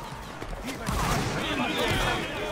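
Musket volleys crackle in a Napoleonic Wars video game battle, a dense, continuous spread of distant and mid-range shots with no clear gaps, while someone talks over the gunfire.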